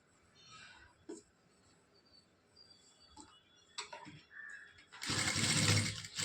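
A sewing machine stitches blouse fabric in one loud, dense burst near the end, after a few light clicks and handling sounds.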